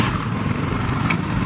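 A motorcycle engine idles steadily up close, a continuous buzzing drone with no pauses.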